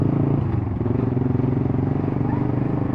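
A motorcycle fitted with a racing exhaust idles nearby with a loud, steady, throbbing putter, close and continuous for the whole stretch.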